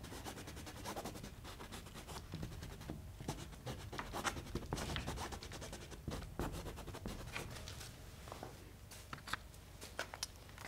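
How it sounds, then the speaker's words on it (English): Eraser rubbed over marks on an abstract painting, giving a faint, steady scratchy scrubbing with quick repeated strokes and no talk. "so I'm going to come in and erase them a little bit"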